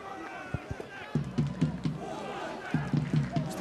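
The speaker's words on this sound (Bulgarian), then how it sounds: "Публиката също се активизира." Football stadium crowd at a Bulgarian league match between Botev Vratsa and Botev Plovdiv, a distant roar with rhythmic chanting and clapping bursts swelling under a commentator's voice.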